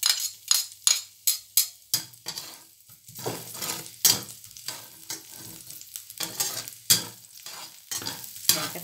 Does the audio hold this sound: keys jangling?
no